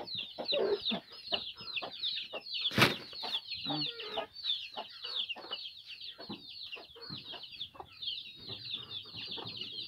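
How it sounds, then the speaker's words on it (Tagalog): Several native chickens on a pig farm cluck and chatter close by, with a continuous high bird chorus behind them and a brief flurry of wing flapping. "Kahit pala sa baboy marami po tayong manok dito."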